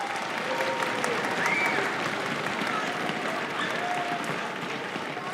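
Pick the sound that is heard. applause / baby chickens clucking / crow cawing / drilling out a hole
applause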